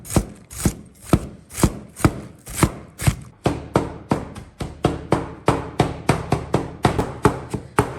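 A kitchen knife chops onion and Chinese cabbage on a board with steady, sharp, evenly spaced strokes that grow slightly quicker toward the end, close and clear with no talk.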